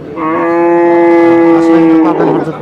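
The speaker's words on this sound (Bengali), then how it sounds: "সুন্দর সুন্দর গাভী গরু কিন্তু আছে" A single cow gives a long, loud, sustained moo with rich harmonics, close by, at a Hazratpur cattle market selling dairy cows and calves.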